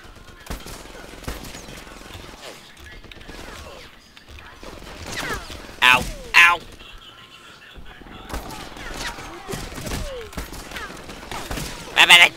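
Bursts of rifle and machine-gun fire in Medal of Honor Airborne, scattered cracks and rattling volleys with several loud close shots standing out, mixed with battlefield noise and someone talking over it.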